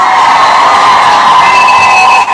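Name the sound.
audience applause and cheering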